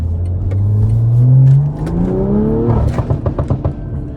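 A tuned 500 hp BMW M340i with a downpipe accelerates hard in traffic, its engine note climbing steadily through the revs, then breaking into crackling exhaust pops and bursts as it shifts, loud and close.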